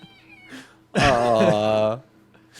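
A cat lets out one loud, drawn-out meow lasting about a second, close and clear, preceded by faint quieter sounds in a game scene.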